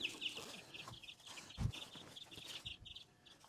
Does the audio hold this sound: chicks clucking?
yes